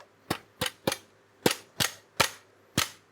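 A Mesa Tactical SureShell shell carrier riser is tapped home onto a shotgun stock: seven sharp, close knocks in an uneven rhythm, each short and crisp with quiet gaps between them.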